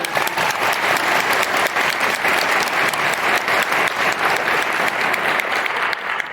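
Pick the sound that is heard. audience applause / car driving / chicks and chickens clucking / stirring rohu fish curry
audience applause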